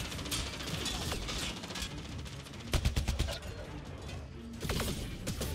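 Mass Effect Andromeda gunfire plays as rapid repeated shots and mechanical clatter in bursts, fairly quiet under a busy game soundscape.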